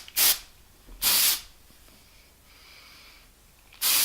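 Three sharp hissing bursts of an aerosol spray, close by, with quiet pauses between them and a faint breath in the gap.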